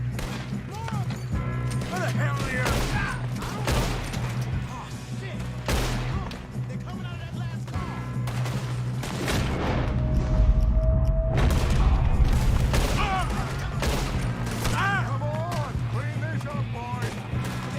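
Gunfight in Red Dead Redemption 2, with repeated loud gunshots cracking over a steady low game soundscape, a sustained tone midway, and voices talking throughout.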